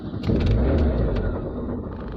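An engine with a previous starting problem cranks and catches, then settles into a low, rough idle rumble close by.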